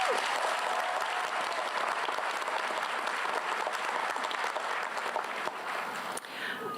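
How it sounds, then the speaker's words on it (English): An audience at a college commencement ceremony applauds in a sustained, even round of clapping that fills the hall, tapering slightly at the end. "Could we please give these young ladies one more round of applause?"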